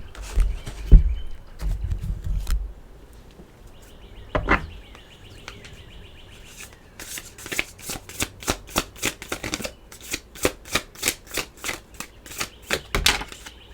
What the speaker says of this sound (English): We're going to pull a card from over here.